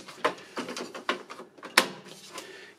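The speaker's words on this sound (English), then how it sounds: "when you come to replace it and pop your till roll in" A paper till roll is loaded into an electronic cash register printer, giving a series of close plastic clicks, snaps and rustles in uneven bursts, ending with a sharper latch-like snap.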